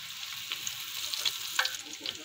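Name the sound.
cumin and bay leaf sizzling in hot oil tempering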